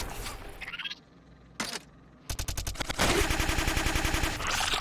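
Rapid in-game gunfire from Diablo III plays as dense bursts of repeated shots. Several short volleys break off, then a long continuous, loud stream of fire follows, with no talk over it.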